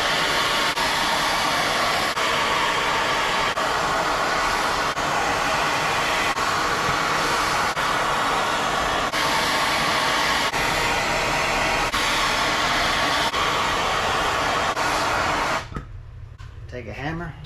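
A torch flame roars steadily while heating stuck old piston rings on a 1976 Chevy LUV Isuzu engine, a loud continuous hissing rush that cuts off abruptly near the end.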